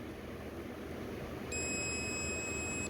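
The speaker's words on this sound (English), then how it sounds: "and it should beep." A multimeter sounds a steady high electronic continuity tone partway through as its test leads are touched together, clear and close over faint background hiss.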